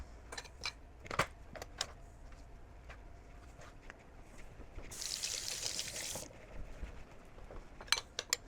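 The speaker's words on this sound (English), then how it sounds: "So what I'm going to do is to add some of this. Maybe some water." Water poured into a pan sauce of fish, asparagus and strawberries during home cooking, a steady broadband splashing pour lasting about a second and a half amid quiet kitchen clatter and a few sharp knocks.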